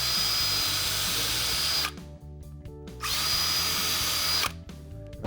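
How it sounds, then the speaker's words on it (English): A power drill bores through a jig into a door, its loud, close whine running in two long bursts separated by a brief pause and then starting again, with no talking. "So now I'm just going to drill straight through this jig, right through the door."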